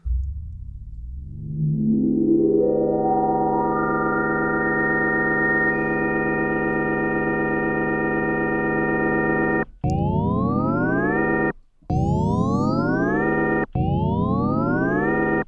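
A sustained synthesizer note in Massive sweeps as its low-pass filter cutoff and resonance are moved, brightening gradually, then repeating in rising swept bursts with brief gaps, steady and loud, with no talking.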